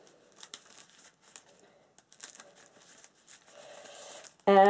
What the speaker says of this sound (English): So these are the research cards for Ithaqua. So I'm just going to shuffle them.